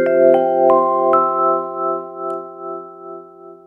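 Vibraphone struck several times, building a ringing chord whose motor-driven vibrato pulses in loudness, the wavering slowing or quickening as the motor speed is adjusted; no voices.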